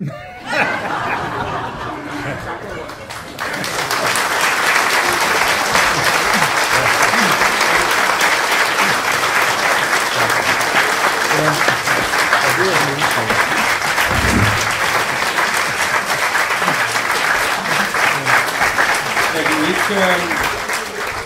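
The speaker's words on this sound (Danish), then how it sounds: "Jeg stopper jeres klappen" Sustained audience applause fills a lecture hall at a political ideas event, loud and dense for about twenty seconds after a brief quieter opening, with scattered chuckles and a voice faintly heard underneath.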